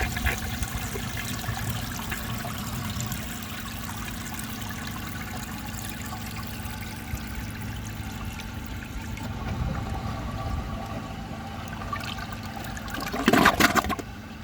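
A 1957 Gerber Mt Vernon toilet flushes steadily for several seconds, with continuous rushing water and a brief loud gurgle near the end, heard alone without talk.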